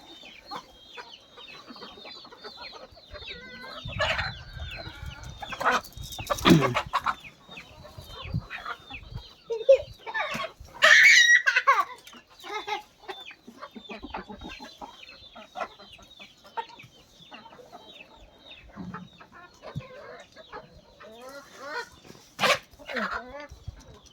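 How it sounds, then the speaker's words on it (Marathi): Chickens cluck and squawk repeatedly nearby over a long stretch as people try to catch a rooster, with a dog barking at moments and people talking in the background. "पकड त्या कोंबड्याला पकड"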